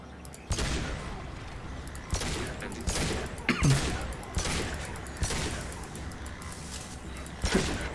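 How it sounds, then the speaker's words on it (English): Repeated bursts of gunfire in the video game Mass Effect 2, loud fusillades striking at irregular intervals every second or so, booming and close, with brief lulls between volleys. "I think I have to shoot."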